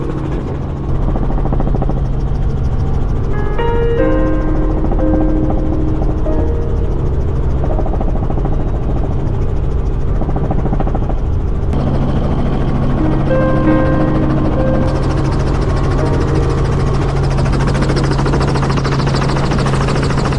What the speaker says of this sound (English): we had to go with the helicopter